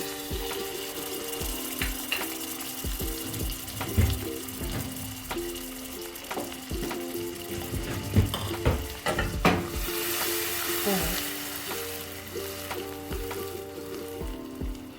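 Butter melts into caramel in a steel pan with a loud, close sizzle and crackle while a utensil scrapes and stirs in uneven strokes, with scattered bumps and knocks and no talking.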